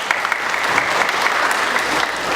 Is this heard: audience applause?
yes